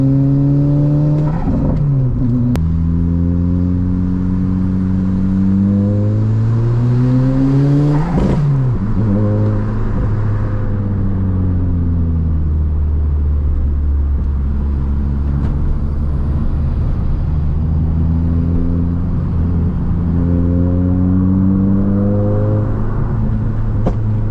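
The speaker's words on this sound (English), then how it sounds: "I just love the sound of that flutter valve." A race car engine fitted with a flutter valve revs up and down repeatedly with fluttering, chattering bursts between gears, loud and close, no speech.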